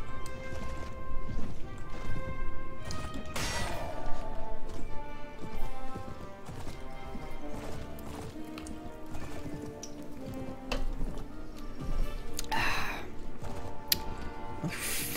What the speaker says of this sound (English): I have a horse and he's running so slow.